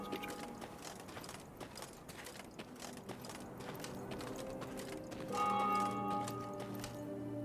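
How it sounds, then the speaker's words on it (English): Temple bells of Mother Melitele from the Thronebreaker game ring faintly at a distance, with repeated metallic tolls whose sustained tones swell in over a steady mechanical game soundscape; no talking. "they heard the bells of a temple to Mother Melitele, situated at some distance"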